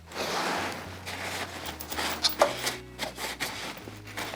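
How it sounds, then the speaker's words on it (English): An oil painting brush being scrubbed clean, giving a steady bristly rubbing and scraping close by, with a couple of brief sharp clicks partway through and no talking. "I just need this brush to get clean."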